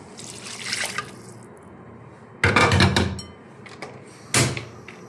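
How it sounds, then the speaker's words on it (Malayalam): Kudampuli tamarind soaking water poured into a fish curry pan, heard as bursts of splashing liquid, with one longer pour in the middle and a short splash near the end, close and fairly loud. "പുളിയും വെള്ളവും കൂടി ഒരുമിച്ച് നമുക്ക് ഒഴിക്കാം."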